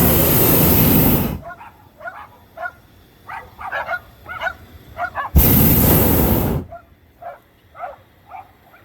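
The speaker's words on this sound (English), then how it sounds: "All these dogs are barking at us" Dogs bark in scattered bursts at a distance, interrupted twice by loud bursts of roaring noise from a hot air balloon burner.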